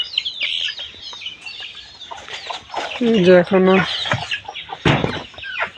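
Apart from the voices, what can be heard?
layer hens clucking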